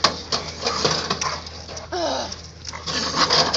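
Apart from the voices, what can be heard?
dog whimpering after being bitten by a raccoon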